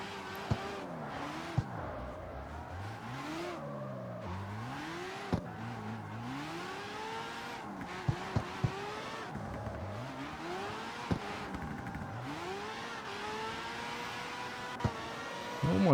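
Han's Tokyo Drift RX-7 drifts in the CarX Street video game, its engine revving and sweeping up and down in long wavering pitches over faint tire noise, with occasional sharp clicks, continuous throughout.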